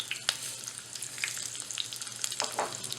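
Sesame seeds sizzle in hot oil alongside garlic and mustard seeds for a tadka, giving a continuous close frying hiss studded with quick bright pops and crackles.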